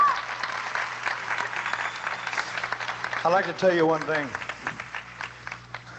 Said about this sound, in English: You should applaud for yourself